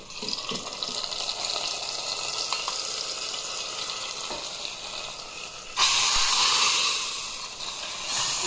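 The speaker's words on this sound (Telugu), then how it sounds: "కొంచెం ఎక్కువ ఆనియన్స్ జీలకర్ర ఆవాలు వెల్లుల్లి రెబ్బలు పచ్చికరివేపాకు ఎండుమిరపకాయలతో తాలింపు ఇలా కొంచెం బాగా వేగితేనే చాలా టేస్టీగా ఉంటుందండి" A tempering of onions, cumin, mustard seeds, garlic cloves, curry leaves and dried red chillies sizzles in hot oil: a continuous close hiss that suddenly surges louder and brighter partway through.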